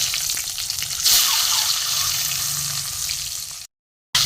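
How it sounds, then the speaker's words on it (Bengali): Peeled boiled eggs frying in oil with turmeric and salt in a kadai, a steady close sizzle with a brief louder burst, then a sudden dropout near the end. "দুটো ডিম আমি ভেজে নেবো একটু লাল করে"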